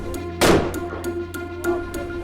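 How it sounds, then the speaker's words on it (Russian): Gunshot from a gun being test-fired at a local shooting range in Pakistan: one loud sharp report with a short rumbling tail, followed by fainter repeated knocks against steady background noise. "Рядом слышим стрельбу, это уже пристреливают какой-то ствол."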